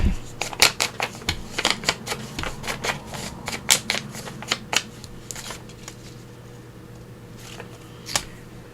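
Sheets of craft and music paper are handled at close range, giving quick crisp rustles and flicks in a busy cluster that thins out into a few isolated crackles over a faint steady hum.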